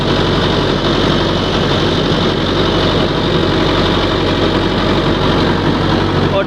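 A heavy tractor pulling a rotavator through a puddled field runs steadily throughout, a loud continuous low rumble with rattling mechanical vibration and no pauses.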